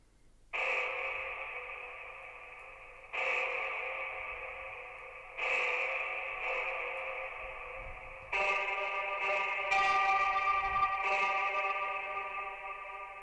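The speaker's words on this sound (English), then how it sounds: "let me try another reverb on top" A reverb effect is layered over a deep techno track, giving repeated sustained tonal chords that start sharply and ring out with long, even tails, growing denser and brighter toward the end, with no voices.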